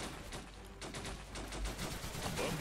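Gunfire in the Blitzkrieg 3 video game, a Soviet side firing directly, heard as continuous crackling volleys of rapid shots at moderate distance, steady and fairly quiet.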